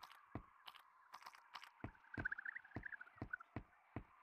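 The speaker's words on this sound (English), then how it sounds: "They added just a little bird noise." A bird calls faintly in the Gorilla Tag video game: quiet, crow-like warbling cries set among a rhythm of soft, sharp clicks in an otherwise hushed scene.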